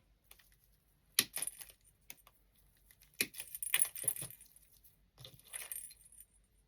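Small bells on frosted Christmas greenery with red berries jingle and clink in brief, separate bursts as the stems are handled and cut. The sound is close and quiet, with gaps of silence between bursts and no talk.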